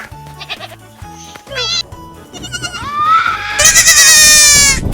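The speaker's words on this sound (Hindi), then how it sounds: "ये तो हीरो बकरा है।" A cartoon goat bleats loudly near the end, a long wavering cry that follows shorter animal calls and musical sounds, set in an animated Bakra Eid story.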